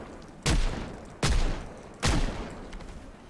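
Three sharp, loud gunshots ring out evenly spaced in a colony-building video game, each with a short decaying tail, with no talking over them.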